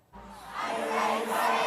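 Concert crowd at a 2023 entertainment event swelling into loud, sustained cheering and shouting, rising after a brief quiet start and holding steady, dense and close.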